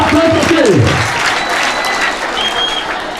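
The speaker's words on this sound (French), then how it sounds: "Applaudissez. Applaudissez." Audience applause at a school end-of-year results ceremony at Institut Tangila, a steady broad wash of clapping across the whole stretch with voices mixed in near the start.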